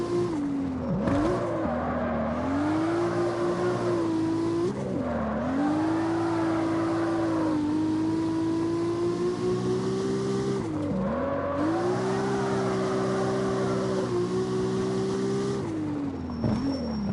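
A car drifting in the street-racing video game CarX Street: a loud, continuous engine drone whose pitch rises and dips with repeated revs and lifts, with a thin tire squeal over it.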